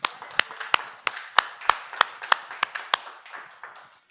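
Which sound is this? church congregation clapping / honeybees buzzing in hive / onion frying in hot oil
church congregation clapping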